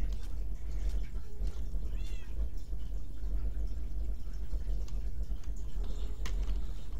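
A cat meows in the Minecraft video game, with a short series of high, wavering calls rising over a steady low in-game background hum that runs through the whole scene.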